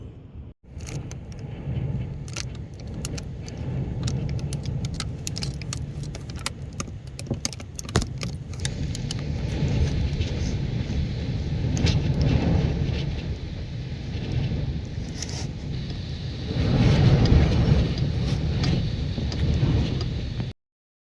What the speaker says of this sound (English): the winds are so strong outside it's pushing the truck. I can feel it. See, everything is shaking inside.